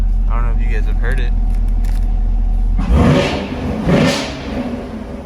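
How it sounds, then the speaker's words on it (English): A 2020 Chevrolet Camaro with a stock exhaust idles with a low rumble, then revs sharply twice, each burst rising in pitch and falling back. "We can give it a good little rev."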